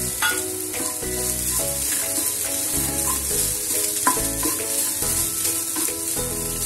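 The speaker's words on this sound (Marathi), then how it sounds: "इथे मी 1 कप नारळाचा किस घेतलाय, तो घालूया" Grated coconut sizzles and crackles as it is tipped into a hot pan and stirred while making rava modak, with a steady frying hiss and irregular scraping strokes, close and alone with no voices.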